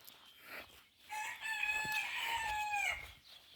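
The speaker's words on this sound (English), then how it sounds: "The chickens are very much still alive." Backyard garden chickens call, with a couple of soft clucks followed by a long, drawn-out, crowing-style cry, fairly close but moderately quiet against faint background noise.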